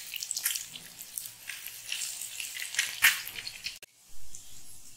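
An egg fries crisp in a hot pan, turned so both sides brown, giving a steady crackling sizzle with small pops that cuts off abruptly before resuming more quietly.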